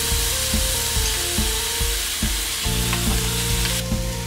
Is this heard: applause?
no